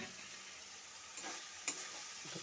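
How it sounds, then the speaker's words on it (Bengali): Fried cauliflower goes into a pan of spiced cooking, bringing a steady faint sizzle with a couple of soft clinks near the end, no talk. "এখন ভেজে রাখা ফুলকপিটা দেবো"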